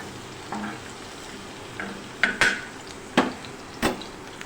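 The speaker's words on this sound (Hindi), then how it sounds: "अब हम लहसुन फ्राई करेंगे।" Chopped garlic frying in a pan with a soft, steady sizzle, broken by a few sharp clinks and scrapes of a utensil stirring against the metal; no one speaks.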